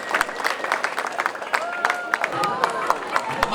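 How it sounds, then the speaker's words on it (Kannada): Audience clapping for a prize winner at a Ganesha Chaturthi celebration held by a neighbourhood youth association: scattered, uneven hand claps with crowd murmur and a voice over a PA blended in, moderately loud throughout. "ಚಪ್ಪಾಳೆ ಹೊಡೀರಿ, ಚಪ್ಪಾಳೆ ಬರಲಿ ಜೋರಾಗಿ"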